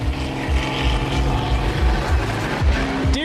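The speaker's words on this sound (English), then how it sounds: "helicopter chasing you?" A helicopter passing overhead during a live outdoor event, a steady loud rotor drone with a rhythmic chopping beat that holds throughout.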